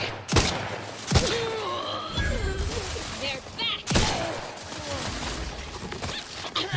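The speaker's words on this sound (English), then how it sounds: "Looks like somebody shooting me in the back for whatever reason." Gunfire in The Outer Worlds 2 cracks out as several sharp, loud reports spaced a second or more apart, with clattering and impact noises between them and voices faintly underneath.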